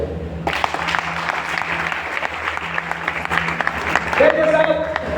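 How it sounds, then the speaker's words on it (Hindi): Audience applause at a motivational talk, a burst of dense, close clapping that holds steady for several seconds and swells near the end, with a voice briefly heard over it. "ताली बजाओ"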